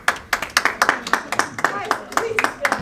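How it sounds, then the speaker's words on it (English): A few people clap in quick, uneven bursts of sharp slaps, close by and moderately loud, with voices chattering in between. "I live for the applause."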